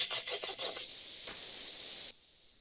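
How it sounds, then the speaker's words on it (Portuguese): A dry, rhythmic rasping of several quick strokes, like a nail file scraping, close up, then fading to a faint hiss. "Ou então a gente vem do lado lixando a unha."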